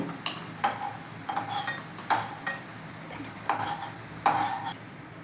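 A metal slotted spoon scrapes and clinks against a kadai as fried lentil, potato and plantain fritters are lifted out, with a series of close, sharp taps in an uneven rhythm over a faint background of sizzling oil.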